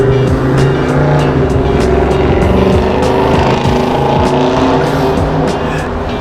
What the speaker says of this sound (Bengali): সারা রাত সারাদিন সারাক্ষণ গাড়ি চলছে এখানে।